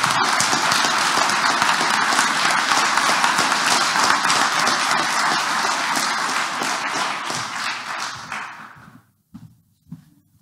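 A live audience claps warmly after readings at a literary event, dense sustained applause that fades out to a few last scattered claps.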